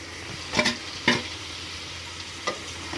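Marinated chicken tossed into a pan of fried onions for a gongura chicken dish sizzles quietly while a spoon stirs it, scraping a few times against the pan over a steady frying hiss.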